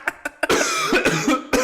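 A person coughs after tasting a very hot sauce: a few short sharp coughs, then a longer rasping sputter and another cough, loud and close with no words.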